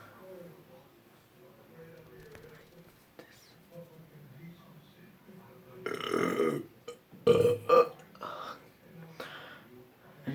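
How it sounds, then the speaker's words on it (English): A person burps several times, loud close-up bursts bunched together midway, with softer murmuring and small handling noises around them. "I don't like my burping. Like a noisy one."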